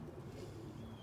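Pigeons cooing, a black cock paired with an Andalusian bald-head hen; a faint, low, continuous burble of coos lasting about a second with no talk over it.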